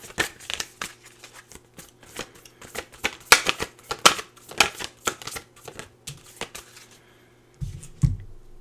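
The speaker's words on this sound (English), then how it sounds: "I'm just going to pull some oracle cards" Oracle cards being shuffled by hand in a quiet room, a run of crisp riffling bursts and taps that swell and fade over several seconds, followed by a soft thump near the end.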